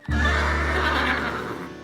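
On a farm, a horse lets out one sustained neigh that starts abruptly and holds strong for nearly two seconds. It is close and loud, with no voices over it.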